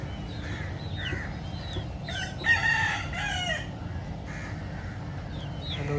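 Chickens cluck and a rooster crows once mid-clip, moderately close, over a steady background of outdoor noise and low rumble.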